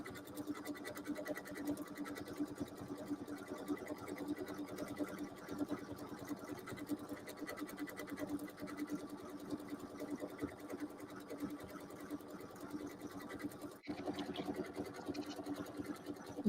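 A sewing machine stitches a decorative scallop stitch, a steady fast mechanical whir and rattle running continuously with one brief catch near the end, no talking.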